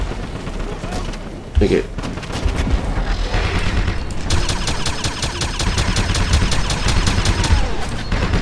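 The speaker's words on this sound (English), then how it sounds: "so it's a big machine gun" A big machine gun in Wolfenstein (2009) hammers out a long, rapid, evenly spaced burst amid gunfire and booms. The firing is loud and close, and a voice speaks briefly.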